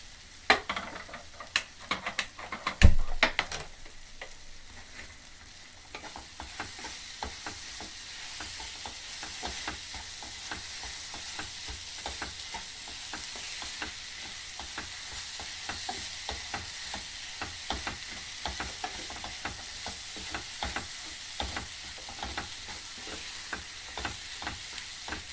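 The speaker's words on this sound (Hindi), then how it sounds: "फिर हम इसमें अपनी पीसी हुई मटर डालेंगे।" Ground green peas roast in a pan, starting with clanks and scraping as they go in and are stirred, then settling into a long, steady low sizzle with occasional faint stirring crackles.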